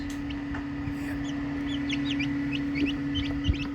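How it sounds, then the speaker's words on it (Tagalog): Rhode Island Red chickens in a backyard give soft, scattered clucks over a steady low hum, with a few brief higher calls rising toward the end. "Ito ang Rhode Island Red."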